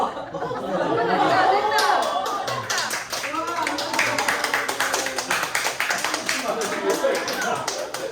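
A group of teachers at a summer training workshop clapping in a quick, uneven patter, with chatter and light laughter running underneath.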